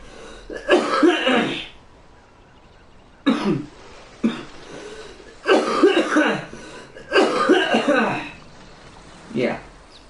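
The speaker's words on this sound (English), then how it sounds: "I don't want y'all to have to hear me cough." A sick person with bronchitis coughs and clears their throat in several separate bursts, close and fairly loud, with quiet gaps between fits.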